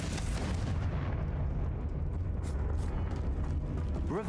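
The Confringo blasting spell in Hogwarts Legacy erupts in a sustained, heavy, rumbling explosion with crackling debris and a deep low-end boom, loud throughout with no quiet gaps.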